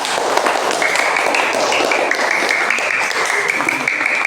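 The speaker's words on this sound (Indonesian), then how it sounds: "Tepuk tangan kelompok 3" Classroom of students clapping for a group, dense rapid applause filling the room at steady volume throughout, with a few voices mixed in.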